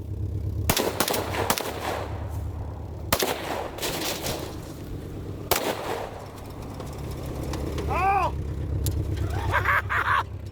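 Rifle fire from a CMG Descent chambered in 7.62x39: three loud, sharp single shots spaced a couple of seconds apart over a steady low rumble, followed by faint chirping tones.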